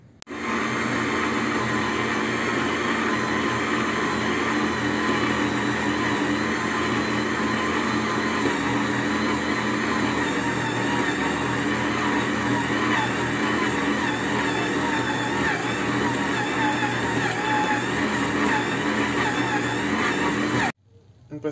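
Stand mixer (batidora) with its paddle attachment mixing ingredients, a steady, loud motor whir running without a break for about twenty seconds before stopping abruptly.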